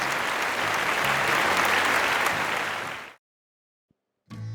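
Audience clapping as a sound effect in a children's St. Patrick's Day story after a harp performance of Danny Boy, a loud even burst of applause that cuts off abruptly into silence before a brief noise.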